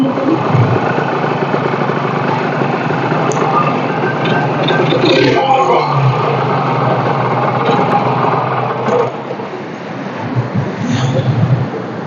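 A motorcycle engine idles close by outdoors near high water, a steady buzzing drone running throughout while people talk over it.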